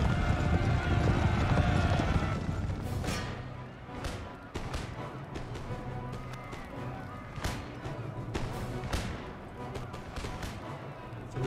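Cuirassier cavalry horses galloping in a battle in the Empire: Total War video game, a dense rumble of hooves mixed with scattered gunfire cracks, with someone talking over it.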